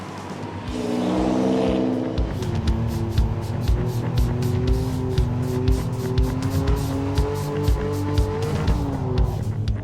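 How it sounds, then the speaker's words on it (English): A twin-turbo V6 in a Ford F100 truck roars steadily as it revs, rising and falling in pitch, loud and close, with faint tire noise and no talking. "when you put 2 turbos on the side of it, It's not bad"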